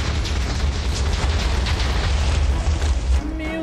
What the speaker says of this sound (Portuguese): toma explosão da TNT